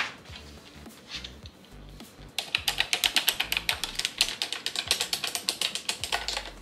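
Fingers tap quickly across a computer keyboard, sparse and light at first, then a fast, even run of crisp clicks close by.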